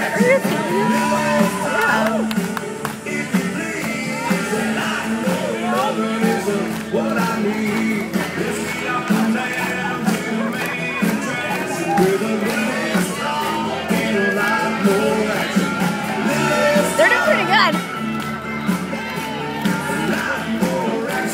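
A live TV studio crowd claps and cheers continuously, with whoops and shouts over dense applause and overlapping talk, loud and close throughout.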